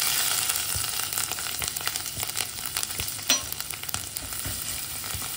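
Ginger and garlic sizzling in hot oil with turmeric in a pan, a dense steady crackle with occasional stirring scrapes and a brief louder clink, no voices.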